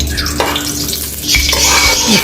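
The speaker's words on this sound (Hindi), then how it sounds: "इसी तरह जो बाकी हैं मखाने उनको भी हम फ्राई कर लेंगे।" Fox nuts (makhana) fry in hot ghee in a pan, a loud close sizzle with scraping stirring strokes running throughout, no talking.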